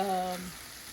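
Sun-dried tomatoes and minced jarred garlic hitting a hot pan, a brief bright sizzle under fading tonal ringing that settles into soft frying hiss.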